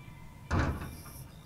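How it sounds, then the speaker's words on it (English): A door opening in the video game Purple Friday, a single short sliding swish with a brief bright rattle, fairly close and clear over quiet background, trailing off within about a second. "Door open."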